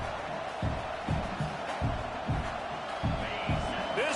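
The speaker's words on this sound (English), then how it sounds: "This crowd bringing the energy and noise early." A college football stadium crowd at Nebraska versus Wisconsin roars in a steady, distant wash, with rhythmic bursts of clapping or stomping pulsing through it, all under a commentator's talk.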